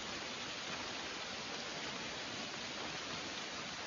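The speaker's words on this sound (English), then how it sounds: "I guess I'm hiding in a privy from the rain." Steady rain drums on the roof of a privy beside a parking lot in Maine, a dense, even hiss with no gaps, heard from inside the small shelter with no voices.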